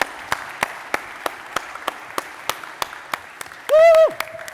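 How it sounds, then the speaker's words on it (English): Listeners at a tech talk on AI-powered web apps give a round of applause for a speaker, heard as sparse, evenly spaced claps in a steady rhythm, topped near the end by a single loud, drawn-out whoop from one voice. "And a round of applause, everyone"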